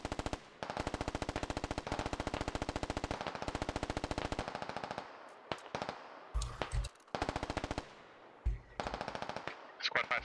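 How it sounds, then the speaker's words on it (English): Rapid automatic gunfire rattles in long sustained bursts in the SquadOps shooter game, with a few pauses and sharper single reports breaking up the steady stream of shots. "Taking accurate fire north side"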